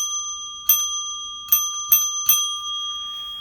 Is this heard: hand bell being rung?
yes